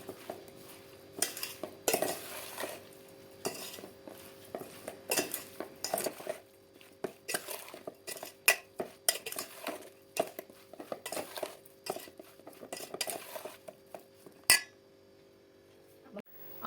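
Spoon scraping and clinking against a dish while mango pickle pieces are mixed with oil, in irregular close bursts with brief pauses and occasional louder knocks.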